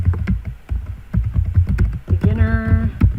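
Rapid clicking keystrokes on a computer keyboard, close and fairly loud, with a short hum partway through.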